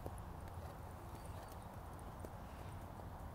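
Horse hooves clip-clop in a steady rhythm, faint and distant against low background noise, with no one speaking.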